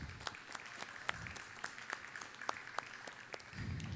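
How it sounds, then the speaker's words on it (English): An audience claps and applauds for a guest artist at a live glassblowing demonstration, a moderate, scattered round of clapping with sharp individual claps, followed by a low rumble near the end. "Let's get a big round of applause going for Kirsten."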